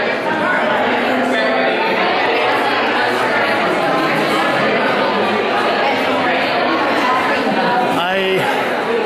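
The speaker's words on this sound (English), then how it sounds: "Okay, well, it's a raucous crowd." A raucous crowd chatters and shouts at a gallery exhibition opening, a dense, loud wall of overlapping voices filling the room without pause.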